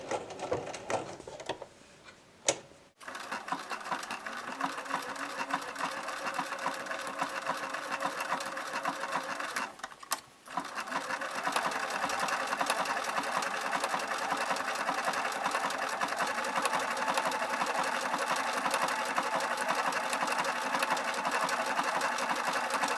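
Sewing machine stitching a blanket-stitch appliqué, running steadily with a dense rhythmic whir, briefly pausing twice as the fabric is turned, then continuing louder and more even.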